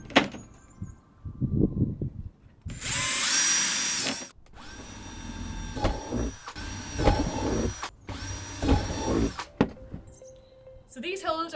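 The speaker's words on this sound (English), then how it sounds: "So you're going to drill holes around the top like this where I've started." A power drill bores holes through a plastic box for home composting, whining in several sustained bursts separated by short pauses, with a brief voice murmuring before the first burst.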